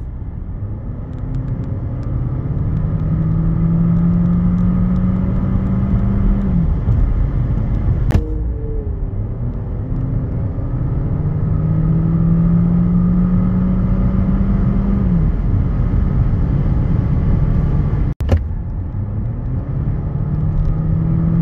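A Renault Captur 1.3 TCe 160 with EDC automatic gearbox accelerates, its engine rising in pitch twice, shifting between sweeps, under steady road and cabin rumble with brief clicks.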